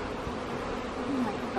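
Honey bees buzz in a hive box, a steady, moderately soft drone that continues without a break, with one slightly higher-pitched buzz rising briefly near the end.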